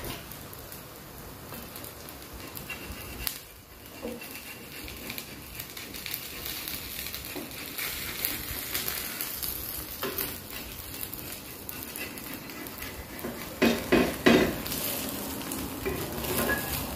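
Bhagar dhirde fry in oil on an iron tawa, giving a continuous soft sizzle with scattered spatula scrapes and turning sounds. A few louder clatters come near the end.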